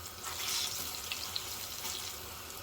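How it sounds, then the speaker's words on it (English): Overripe plantain slices fry in a pan, a constant bright sizzle with small pops, close and steady without any talk. "so I'll fry them on each side until they're golden brown"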